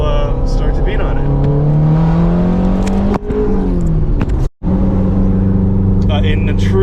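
A warmed-up Lotus Esprit S4S engine revs hard and loud up close, pitch climbing and falling through repeated throttle blips, with a brief cut between pulls and a voice talking over it.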